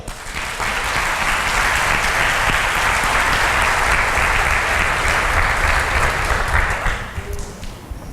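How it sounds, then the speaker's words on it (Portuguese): A church congregation at a Baptist service applauds in loud, continuous clapping that fills several seconds, then thins out and tapers off near the end. "Aplauda ao Senhor."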